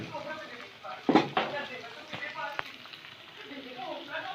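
Tadka tempering of cumin seeds sizzles steadily in a pan, a continuous crackling fry with a few sharper spits, while a person talks over it.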